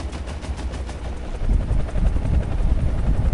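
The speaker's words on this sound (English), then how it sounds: "And that's the 40mm grenades." Steady rotor-like drone from War Thunder combat, with a 40mm grenade launcher firing as dense rapid thumps that grow louder and heavier halfway through, no voices.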